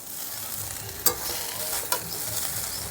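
Egg fried rice seasoned with salt and black pepper sizzles steadily in a pan while a spatula stirs it up from the bottom, with two sharp scrapes standing out over the hiss.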